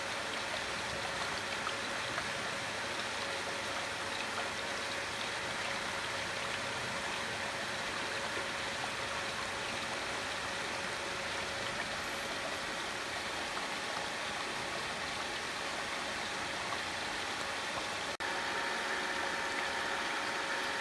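A pool filtration pump runs continuously, churning and mixing the water with a steady broadband rush and a faint mechanical hum, unchanging throughout with no talk.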